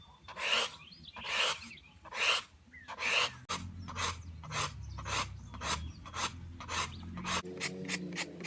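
An animal hide is scraped with a hand tool in repeated rasping strokes, about a dozen rough close passes in a steady rhythm that quickens toward the end.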